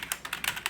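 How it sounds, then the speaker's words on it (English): Rapid typing on a Fantech K611 Fighter membrane gaming keyboard, a close run of about six crisp, slightly muffled keystrokes in uneven quick rhythm, heard alone. "I cannot stop typing on this because it's just that sound"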